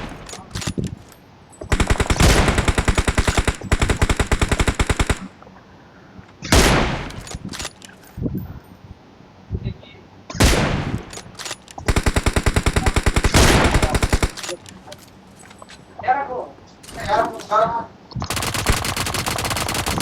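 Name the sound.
P90 gunfire in video game BGMI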